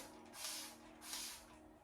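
Two quick hissing spritzes from a spray bottle onto crochet-braided curly hair, close and soft, about half a second apart.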